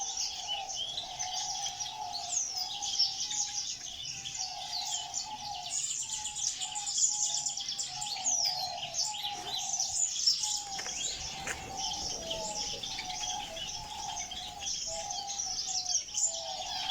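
Birds in an aviary holding over fifty species, including Bengalese finches, keep up busy high chirps and twitters alongside a repeating lower call, steady and moderately close throughout.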